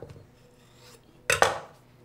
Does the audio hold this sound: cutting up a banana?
yes